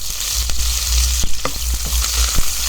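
Long-sliced onion dropped into hot oil with mustard seeds, a loud, steady close sizzle and crackle throughout, with a few sharp pops and spoon scrapes.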